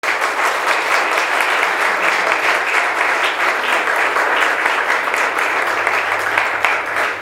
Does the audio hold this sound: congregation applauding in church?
yes